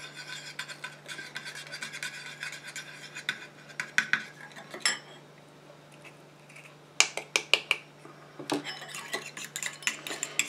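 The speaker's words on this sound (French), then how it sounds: "Je mélange jusqu'à ce que l'urée est bien fondue dans l'eau." Utensil stirring urea into the water phase of a homemade hand cream, quick clinking scrapes against a glass or metal container, rapid and close, with brief pauses between bursts.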